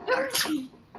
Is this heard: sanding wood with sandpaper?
no